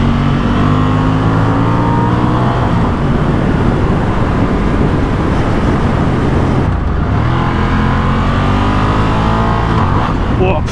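Car accelerating hard on a road, a loud continuous engine roar climbing through the revs with a brief gear-change dip partway, heard close from inside over wind noise.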